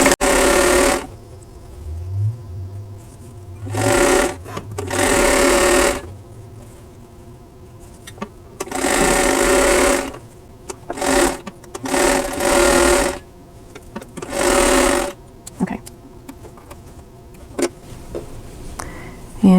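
A home sewing machine stitches quilt block pieces, joining a square to half-square triangles, in several loud bursts of rapid whirring with pauses of quiet between them.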